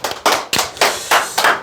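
Short bursts of clapping from a small group during a sales-coaching lecture, arriving in about five distinct quick rounds, each crisp and close, with no talking.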